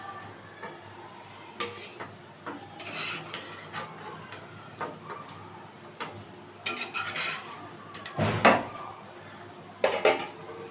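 Metal utensils scrape and clink against a pan while cooked lote (Bombay duck) fish is lifted out, with intermittent sharp taps and scraping strokes at close range.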